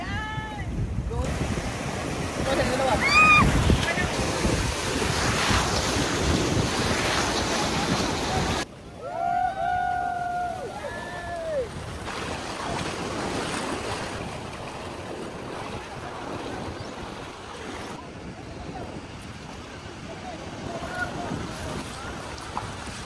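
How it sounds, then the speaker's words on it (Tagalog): Loud, continuous ocean surf crashes and roars throughout, with wind buffeting the microphone and excited voices calling out now and then. "Ang lakas ng alon."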